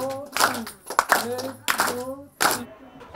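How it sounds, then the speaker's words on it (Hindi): A village group claps together in a few sharp, separate bursts, with voices of women and children calling out loudly around and between the claps. "3 बार ताली बजाए जो,"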